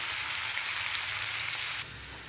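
Fenugreek leaves fry in a little oil for a rice dish, giving a dense, even sizzle that holds steady, then drops noticeably in loudness near the end, with no talking.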